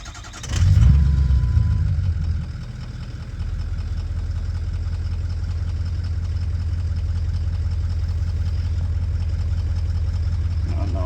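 A 2004 Ford F250 with the 6.0 engine and a blue spring mod cranks and fires with a loud catch, then settles into a steady, even idle.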